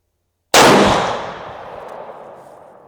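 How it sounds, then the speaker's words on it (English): A single loud rifle shot from a Ruger Gen 2 in 7mm PRC firing Hornady ELD-X ammunition at a range cracks sharply after a short silence, then its echo rolls away slowly. "We're going to get the chrono put away, start shooting."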